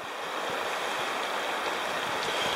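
A high, fast-running river in Eastern Oregon in early spring, heard as a steady broadband rush of water that stays loud and continuous without pause and has no voices over it.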